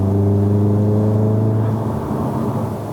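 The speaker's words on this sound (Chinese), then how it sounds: "感觉 Race exhaust 好像有点不一样去啊。" A Stage 2 VW Golf R MK7 in Race exhaust mode drones with a loud, steady engine and exhaust note, its low tones holding then fading slightly during a test drive in Malaysia.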